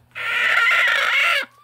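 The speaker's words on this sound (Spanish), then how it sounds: "Ahí tengo gallinas culecas." Broody hens in a henhouse give a single sustained clucking, squawking call lasting over a second, loud and close, with no talk over it.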